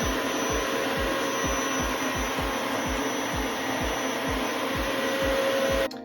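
A Dyson DC07 upright vacuum set to its bare-floor mode runs over pet hair on carpet, giving a loud, steady whooshing roar with a regular low thumping pulse that cuts off abruptly at the very end.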